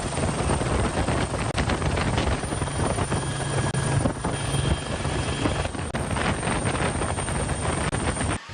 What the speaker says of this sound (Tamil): பெல் இருநூற்று பன்னிரண்டு ரக ஹெலிகாப்டர் ஒன்று